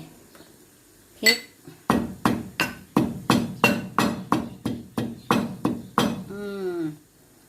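About a dozen heavy, evenly paced thuds of a pestle pounding pork larb in a mortar, close and loud, followed by a brief voice at the end.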